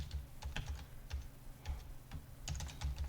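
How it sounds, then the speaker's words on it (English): Password entry on a computer keyboard while configuring VMware Site Recovery Manager, heard as quick irregular bursts of close key clicks over a low steady hum, with no talking. "You would type in the passwords"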